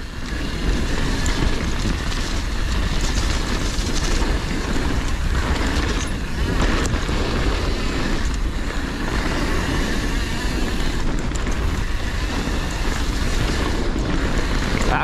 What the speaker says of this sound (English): That was freight train that just went over top of us.